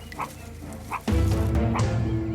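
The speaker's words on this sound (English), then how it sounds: "alarm bark interrupts their peace" A few short, sharp meerkat alarm barks, then a louder burst of calling, close and insistent, with no talk.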